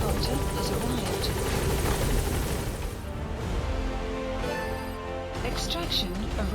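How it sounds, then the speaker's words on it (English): Support helicopter in the video game Metal Gear Solid V drones with a loud, continuous rotor roar that dips slightly midway, with game voices heard over it. "Support helicopter has arrived."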